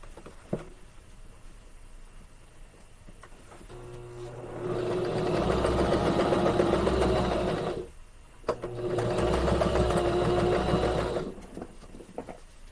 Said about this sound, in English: So I'm going to go through and stitch the rest of the box corners.